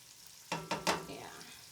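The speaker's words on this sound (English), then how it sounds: "And now we're also going to give this a quick stir." Softened onions, peppers and tomato paste stirred in a hot pan, three quick scraping strokes over a low sizzle, close and moderately quiet, with no speech.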